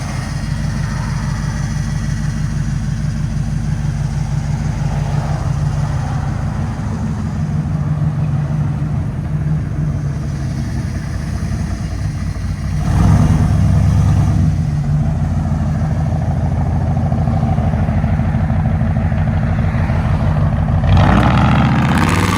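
A long-wheelbase quad-cab Ford F-350 with a 460 V8, headers and Flowmaster Outlaw mufflers idles with a deep, loud, steady rumble, then snaps into two sharp revs near the end.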